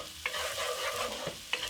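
Garlic and ginger frying in a pan, producing a soft continuous sizzle with three distinct scraping stirs of a utensil spaced across the moment, close and clear without any voice.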